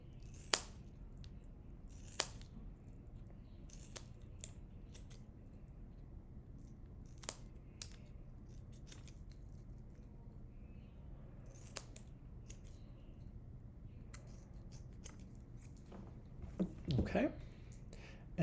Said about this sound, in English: So I'm going to cut 5 pieces of Velcro here.